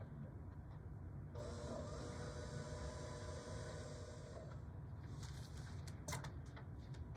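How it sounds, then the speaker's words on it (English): Electric mixer whipping vanilla frosting until creamy, a steady high whir running about three seconds over constant low background hum, then cutting off to a few faint clicks and clatters. "I'm going to use the electric mixer here and just mix that all up till it's creamy."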